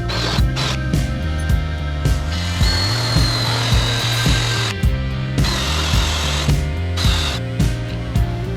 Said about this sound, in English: mark out where we're going to need to drill a hole to secure it